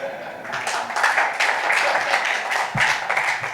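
An audience at a football media launch event breaks into sustained applause, a dense, continuous patter of many hands clapping at moderate loudness that runs through the whole stretch without voices.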